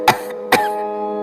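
A very old man coughing, two short rough coughs in quick succession over a low sustained musical drone.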